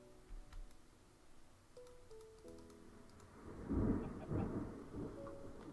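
Low, rolling thunder in a Minecraft world as a storm builds, a muffled rumble swelling midway and fading again under faint ticking and game tones.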